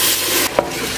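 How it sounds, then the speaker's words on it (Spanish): Onion frying in a pan, a dense close-up sizzle with a brief scrape of stirring partway through, heard alone. "Vamos a que dore la cebolla."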